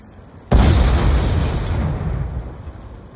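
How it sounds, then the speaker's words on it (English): A C4 charge set off by gunfire in a video game detonates in one sudden loud boom, then a long, gradually fading rumble with no talking. "Gonna shoot your C4."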